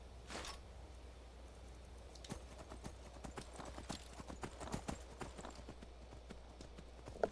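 Shadowmere's hooves in Skyrim Special Edition clop in a steady, uneven gallop, close and moderately loud, with faint creaks of tack and a low ambient hum and no speech.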